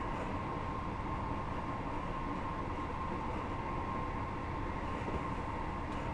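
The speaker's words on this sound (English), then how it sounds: "I'm going to put the train into notch 3." A Class 158 DMU in Train Simulator 2019 runs in notch 3 with a steady, even rumble and a constant droning engine tone. It stays moderately quiet, with no talk.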